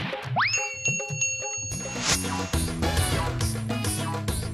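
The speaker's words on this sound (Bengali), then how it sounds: "ঘন্টাটা বাজা বুদন।" A ritual bell is rung during a household Hindu worship ceremony, its bright ringing tones repeating steadily over several seconds after a rising boing-like chime at the start, amid busy background sound.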